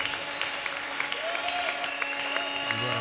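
A church congregation claps and cheers for Jesus in a steady, moderately loud round of applause, with crowd voices and a speaking voice mixed in.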